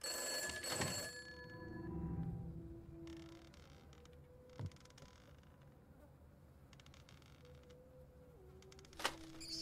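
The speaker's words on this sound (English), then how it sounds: "I gotta answer this phone. I gotta answer it." An in-game telephone in the horror game From Day To Day rings in a shrill electronic trill that fades away. Soft clicks and a couple of sharp taps follow over a quiet background.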